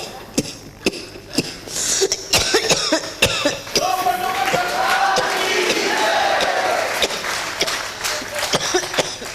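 Repeated harsh coughs burst out in irregular fits, close and loud, with a raspy, strained vocal sound in between.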